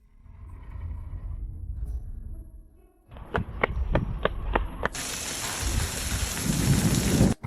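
Rain and thunder in a video game: steady rain patters at first, a run of sharp cracks follows, then a heavy downpour hiss swells to full loudness.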